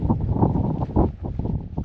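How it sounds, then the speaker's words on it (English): Strong gusting wind buffets the microphone on an open hilltop in the Cheviots, a loud, continuous low roar that swells and dips in irregular surges. "It's very windy still. Odd gust coming in."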